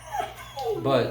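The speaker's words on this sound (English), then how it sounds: "My dog is going crazy right now" A dog whimpers and yips excitedly in the background, a few short high-pitched cries heard beneath a man's speech.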